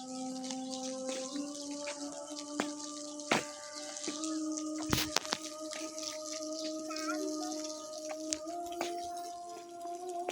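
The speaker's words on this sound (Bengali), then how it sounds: "জল পড়ছে দেখছো" Water falls and trickles steadily on the bank of the Karatoya River, making a continuous, moderately quiet splashing with a few sharper drips and knocks mixed in.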